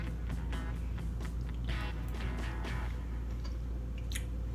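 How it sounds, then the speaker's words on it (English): Close-up chewing of shrimp from a shrimp dill salad with Dijon mustard dressing, moist crunchy bites in a quick irregular rhythm, alone with no talk. "So let me try one of these delectable shrimp, because you know I love shrimp."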